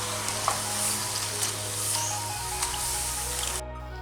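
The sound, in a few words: bitter gourd chips frying in oil while being stirred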